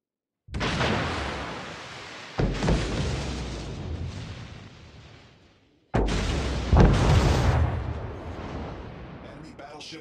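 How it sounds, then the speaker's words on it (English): Heavy naval gunfire and explosions in a World of Warships ranked battle as an enemy battleship is destroyed: loud booming blasts at the start, near three seconds and near six seconds, each trailing off into rumbling, with a synthetic voice announcing the kill. "Enemy battleship destroyed."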